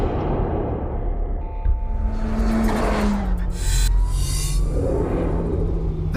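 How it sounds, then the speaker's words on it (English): A turbocharged car engine roars steadily up close for several seconds, with whistling tones rising and falling above a deep rumble and a loud surge partway through. "This turbo makes the most gorgeous noise."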